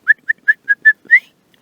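A person whistles an imitation of chaffinch song: five short, clear rising notes spaced evenly, followed by a slightly longer upward-sweeping final note, close and alone with no talking.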